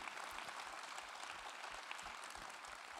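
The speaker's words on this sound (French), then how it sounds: "Je voulais qu'on l'applaudisse" Applause from the audience at a general assembly evening in Châteauroux, a steady, even patter of many hands throughout, heard at a moderate distance.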